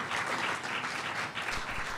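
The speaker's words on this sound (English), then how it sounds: "Give yourselves a round of applause, yes." A town hall audience breaks into brief, dense applause that fills the hall evenly, loud and continuous for a couple of seconds with no voices standing out.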